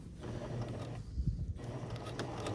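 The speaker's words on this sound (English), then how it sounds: "Let's sew. Backstitch, make sure it's gonna hold nicely." A sewing machine backstitches a waistband, its needle mechanism clattering in quick, close mechanical bursts with a brief pause in the middle.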